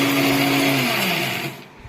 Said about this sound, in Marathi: मिक्सर के अंदर का मसाला पूरा पाउडर सारखा बनवून टाका